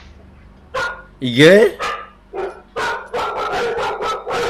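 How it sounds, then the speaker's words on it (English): A dog barks repeatedly on security camera footage, a rising yelp followed by a quick series of sharp, close barks, while someone speaks briefly. "Look at that doggy."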